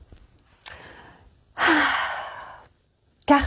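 A person yawns once, a long loud breathy exhale lasting about a second, close to the microphone, followed by quiet breaths.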